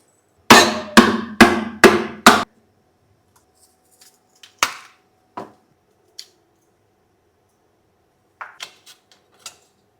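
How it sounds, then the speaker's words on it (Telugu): A knife chops coconut finely on a board, opening with four quick, loud, evenly spaced chops, then a few scattered fainter taps and cuts after a pause, with no talk. "కొబ్బరిని ఇలా సపరేట్ చేసుకున్న తర్వాత సన్నగా తరుక్కోవాలండి"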